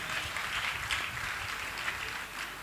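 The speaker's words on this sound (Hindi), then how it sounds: "जरा जोरदार तालियां एक बार फिर से।" Applause from an audience at a women's seminar, steady moderate clapping heard from a distance and continuing evenly without talk.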